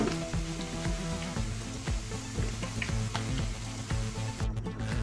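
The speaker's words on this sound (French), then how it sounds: "Je n'oublie pas de jeter un œil à la viande qui est en train de frire." Mutton pieces fry in oil for a potato and mutton stew, producing a loud, constant close-up sizzle with crackling pops and a few faint clinks, and no voices.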